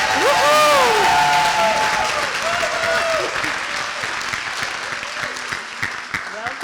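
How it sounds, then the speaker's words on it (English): An audience at a charity cocktail celebration applauds, a dense, loud wash of clapping that slowly tapers over several seconds, with whoops and a speaking voice over it early on. "Let's give her a rock star round of applause."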